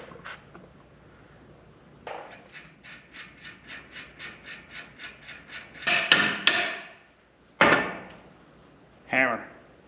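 A hammer strikes a metal steering box about a dozen times in an even rhythm while fitting it to a 1979 Jeep Cherokee, followed by a few louder, sharper clanks close by.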